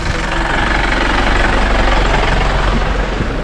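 Loud, steady rumble of a Mahindra jeep engine with worn tyres driving a rough rocky road near Thekkady, continuous droning and vibrating close up with no talking.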